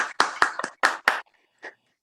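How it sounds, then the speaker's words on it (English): An audience at a first-generation scholarship event gives a short, sparse round of applause: about half a dozen distinct, fairly close claps that quickly die away, then one last stray clap. "Let's give him a round of applause"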